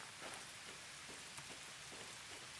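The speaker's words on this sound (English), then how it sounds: "So it'll be daytime, but it's still raining." Steady rain falls in the Derail Valley train simulator, a soft even patter with a few faint drip accents, very quiet and continuous with no voices.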